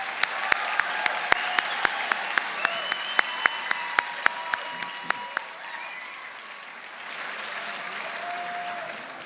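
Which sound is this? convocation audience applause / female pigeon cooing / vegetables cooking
convocation audience applause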